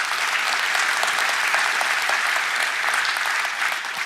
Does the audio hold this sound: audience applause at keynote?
yes